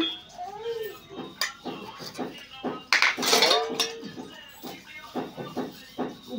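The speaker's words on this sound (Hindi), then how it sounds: "देखिए अब मेरा बर्तन भी धुल गया है" Metal dishes and pots are washed by hand outdoors, giving repeated clinks, clatters and scraping knocks, with a burst of splashing water midway. A voice talks over the washing throughout.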